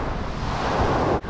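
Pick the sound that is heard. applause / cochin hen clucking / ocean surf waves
ocean surf waves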